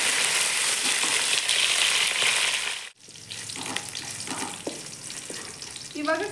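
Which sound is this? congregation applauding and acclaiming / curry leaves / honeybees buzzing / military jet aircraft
curry leaves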